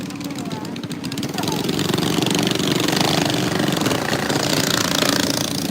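Small motorbikes ridden by young people circle nearby during a street protest, a loud, continuous buzzing engine drone that swells after the first second and holds steady, with crowd noise mixed in.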